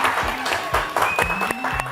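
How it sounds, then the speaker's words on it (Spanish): An audience applauds at a parish Bible quiz event, a brief burst of brisk, fairly close clapping. "Un aplauso."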